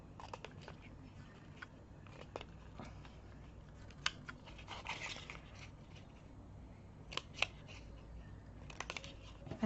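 Scissors cutting through chipboard for a lantern, a run of crisp snipping and crunching strokes at close range over steady background noise, with a few sharper cuts standing out.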